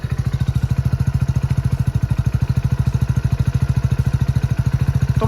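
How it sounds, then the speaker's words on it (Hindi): A Hero Splendor motorcycle idles close by, its silencer giving a steady, rapid, even putt-putt exhaust thump that stays loud and regular throughout. "साथ साथ मैं आपको साइलेंसर की साउंड भी सुनाई देता हूँ"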